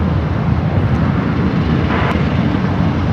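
A Qantas A321XLR airliner at Brisbane Airport gives off a steady, fairly loud broadband engine roar that stays even and continuous throughout, with no talk over it.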